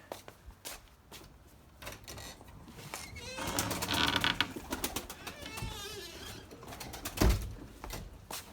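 Erzurum White pigeons coo and flutter nearby, a low rolling cooing building in the middle, with wing flaps, rustling and a voice speaking briefly.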